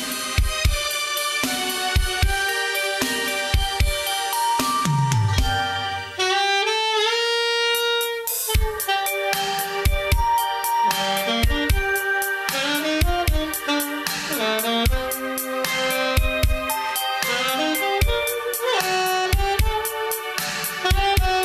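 A saxophone plays an improvised ad-lib solo using chord tones over a full band backing of a Korean song, weaving quick runs and held notes throughout, loud and close.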